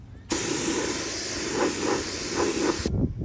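Spray primer goes on in light coats over feathered-out repair areas on a Harley, a loud close hiss that starts abruptly, holds for about two and a half seconds with slight pulsing, then cuts off.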